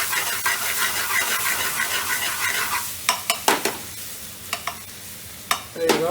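Chopped onion sizzles and fries in very hot oil in a pan for a vegan chickpea curry, a steady crackling hiss with a few sharper spits and pops toward the end.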